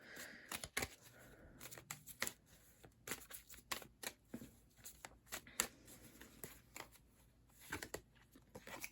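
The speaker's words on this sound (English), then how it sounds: "I'm going to pull you a Spirit Animal Oracle card for this row." Spirit Animal Oracle cards being shuffled and pulled during a tarot reading, soft irregular riffles, flicks and slaps of card stock, fairly quiet and close, with no talk.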